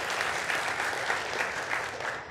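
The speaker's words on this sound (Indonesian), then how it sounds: "Mari yang percaya sekali lagi beri tepuk tangan yang meriah bagi Tuhan kita" A church congregation applauds God together, a steady, dense wash of many hands clapping at an even level with no voices for the whole stretch.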